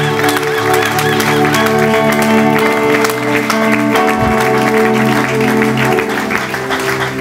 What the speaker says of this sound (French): Honorons un peu cette sœur par des acclamations et son mari